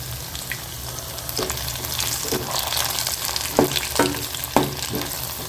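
Steady oil sizzling and crackling as prawns fry, with occasional sharper pops and clinks of a utensil stirring in the pan.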